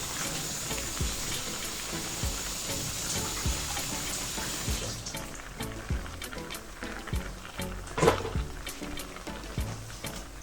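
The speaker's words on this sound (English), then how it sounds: "I'm just going to wash my hands because it's a bit sticky" Tap water runs steadily into a sink while hands are washed after handling sticky raw steak meat, a continuous close splashing hiss with small clatters, louder in the first half and thinner later.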